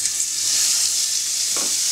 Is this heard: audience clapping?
no